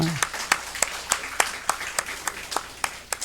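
Church congregation clapping as a blessing during Sunday morning worship, a sparse, rhythmic run of about a dozen distinct claps at an even beat, fairly close and clear.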